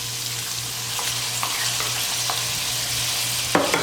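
A spoon stirs cilantro through rice and longaniza, Dominican pork sausage, in a pot, sounding as a steady sizzle with repeated soft scraping strokes over a low hum, ending in a sharper clank.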